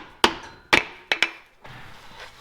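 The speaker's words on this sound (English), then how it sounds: "Get a rubber hammer." A rubber hammer knocks a rusted part into a truck's transfer case: four loud, close, dull blows, two widely spaced and then a quick pair, followed by faint clattering.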